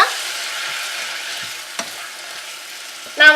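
Sliced tomatoes and onions sauté in a kadai for kadai paneer, a loud, steady close-up sizzle broken by a single spoon scrape and a brief clatter at the end.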